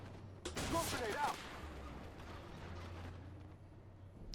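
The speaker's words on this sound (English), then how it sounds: "I just launched smoke here because" Smoke grenades launched from an M2 Bradley in the video game Armored Warfare, a quick rattling burst of launches with crackling pops lasting about a second, followed by steady engine hum and low game ambience.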